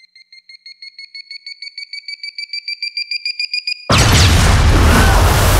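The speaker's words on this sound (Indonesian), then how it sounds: "Terus tiba-tiba ada satu bom yang di close up" A bomb in a Spider-Man film scene beeps in steady, evenly spaced electronic pips that grow slightly louder, then a sudden loud explosion erupts into a sustained roaring blast.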